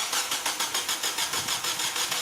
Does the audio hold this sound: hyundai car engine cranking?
yes